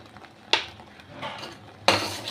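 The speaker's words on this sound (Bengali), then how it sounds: "আচ্ছা এই সময় আমি দুধের এই পায়েসের মধ্যে গুঁড়ো দুধ দিচ্ছি" A spoon scrapes around a pot of payesh, a rice and milk pudding, as milk powder is stirred in. Two sharp metallic scraping strokes rise and fade over quiet background, with no voices.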